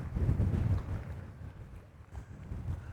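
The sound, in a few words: strong wind on the waterfront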